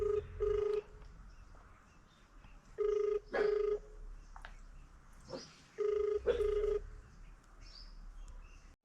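Telephone ringback tone during a call to a relative, heard as three evenly spaced pairs of short, loud electronic buzzes separated by quiet gaps, with faint talk and birdsong in the background.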